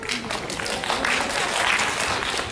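Audience applause at a mental health awareness event, a brief, fairly even spread of many hands clapping with some crowd murmur mixed in.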